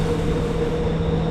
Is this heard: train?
yes